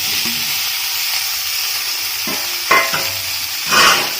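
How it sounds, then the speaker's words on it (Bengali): Fried potatoes stirred with green chili and ginger in a pan over a low gas flame, giving a steady sizzle with a few louder scraping stirs near the end, no voices. "দিয়ে ভালো করে মিক্স করে নিই গ্যাসের ফ্লেমটা একদম আস্তে দিয়ে ভালো করে মিক্স করে নিই"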